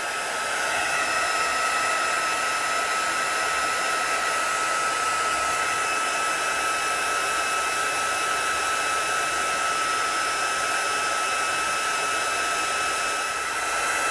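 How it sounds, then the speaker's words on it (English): An embossing heat tool blows over a card-making project, a constant loud, close whooshing hiss of fan and air that runs unbroken and alone for the whole stretch. "I'm going to heat it on the other side to help it flatten out a little bit."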